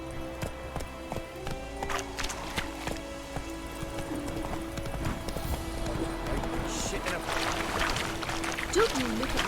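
The horse Roach gallops in The Witcher 3 with steady rhythmic hoofbeats that carry on throughout. Voices speak over the hooves and there is light ambient game sound behind them.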